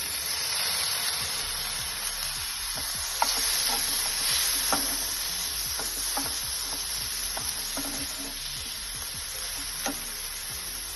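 Chopped onion and tomato fry in a pan, giving a continuous close sizzle and hiss, with scattered scraping stir clicks and light clatter throughout; nobody speaks.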